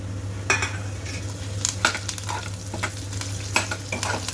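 Curry leaves crackle and sizzle in hot oil for a gorakayi (cluster bean) vangibath, with a steady fry hiss broken by several sharp spitting bursts and scrapes of a stirring utensil against the pan, and no talk.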